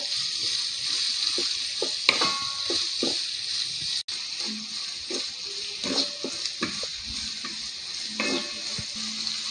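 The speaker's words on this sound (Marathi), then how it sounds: "दोन कांदे कापून घेतले ते पण घालत आहे। याला चांगलं व्यवस्थित सुकू द्यायचं आहे थोडंसं।" Two chopped onions frying in oil in a pan for wheat upma, a steady close sizzle with scattered stirring scrapes and clinks of a spoon against the pan.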